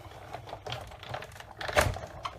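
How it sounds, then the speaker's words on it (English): Manual die cutting machine cranked backwards and forwards to cut card for stamping, soft irregular mechanical clicks and rolls at close range, fairly quiet, with one louder clunk partway through. "you just get the fun of watching me die cut"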